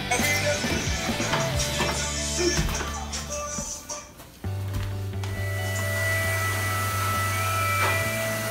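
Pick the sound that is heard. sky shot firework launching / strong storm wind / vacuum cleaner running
vacuum cleaner running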